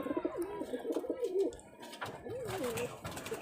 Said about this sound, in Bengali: বেশ বড় সাইজের কবুতর।